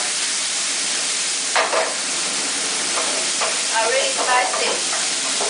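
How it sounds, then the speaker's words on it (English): Chicken with chili peppers and soy sauce frying together in a pan: a continuous sizzling hiss with brief scraping stir sounds and small bursts of crackle, with no clear talk over it. "Now we're just frying everything together"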